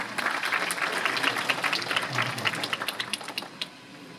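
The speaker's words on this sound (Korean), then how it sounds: "여러분 큰 박수로 환영해 주시기 바랍니다." An audience claps to welcome a speaker to the stage at a job-recruitment talk, moderately loud and dense at first, then thinning into scattered claps near the end.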